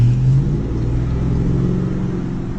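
A 2004 Dodge pickup truck with hydrogen and oxygen injection, running on water, accelerating around the block, a loud, steady low engine rumble heard from inside without talk.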